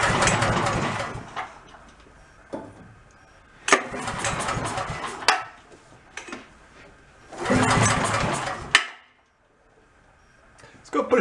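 A cheap petrol generator engine with its choke partly on is cranked several times, each long rattling, churning pull cranking loudly for a second or two without catching, with clanks and short pauses between attempts.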